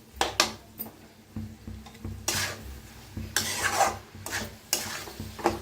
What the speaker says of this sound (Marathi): मिक्स करायची मस्त अशी.